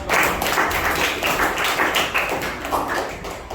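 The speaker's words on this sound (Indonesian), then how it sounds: "tepuk tangan sekali lagi buat" Students in a classroom clap together in steady, loud applause that fills the room, with no talk over it.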